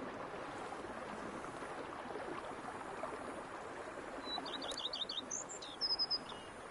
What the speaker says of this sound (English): peace and quiet, bees buzzing, birds chirping